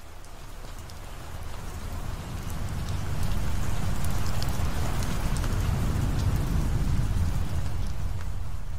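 Steady, heavy rain pours throughout in a recreated thunderstorm sweeping across the East Coast, with low rolling thunder underneath and the downpour swelling louder after the first few seconds.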